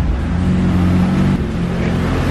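A Lotus Exige S idles steadily close by in a tyre workshop, a low, even engine hum that holds throughout with a slight shift in tone partway through.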